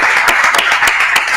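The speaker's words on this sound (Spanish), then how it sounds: "tenemos que darte un aplauso" Applause fills a radio studio in a brief, dense patter of clapping hands, loud and close, with several sharper claps standing out over the steady wash.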